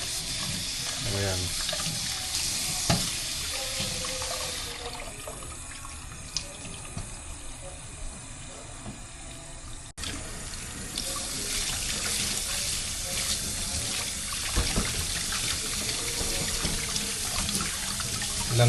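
Raw fish is rinsed under a running kitchen tap for a coconut-milk fish dish, a steady hiss of flowing water with splashing and handling noises throughout, close by, while a voice speaks briefly.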